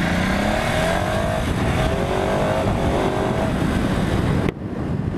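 A Ducati Multistrada 1260 S engine pulls away under steady acceleration, loud and close, its rising drone continuous before cutting sharply near the end.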